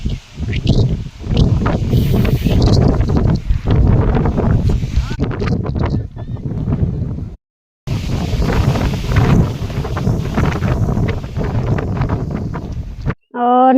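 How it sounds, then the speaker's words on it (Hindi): Strong wind gusts across an open hillside field in the mountains, blowing loose soil. The roar is loud and continuous, buffeting the microphone for nearly the whole stretch, with one brief drop near the middle and a voice talking at the very end. "बहुत तेज हवा चल रही है।"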